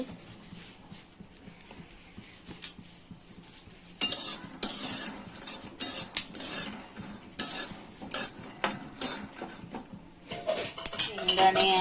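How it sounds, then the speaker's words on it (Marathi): Peanuts dry-roast in a pan over low heat, quiet at first, then a busy rattle of metal scraping and clinking as they are stirred from about four seconds on, close and fairly loud with no talk. "शेंगदाणे आपले भाजून घ्यायचे आहेत गॅस स्लो करून घ्यायचा आहे"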